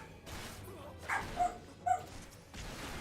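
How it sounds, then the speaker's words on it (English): Dogs barking in the background of a home, a few short, distant yips and barks spaced about half a second apart over low room noise. "My apologies if you do hear the dogs in the background."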